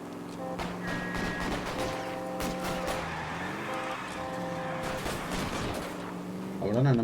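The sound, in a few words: gunfire in video game L.A. Noire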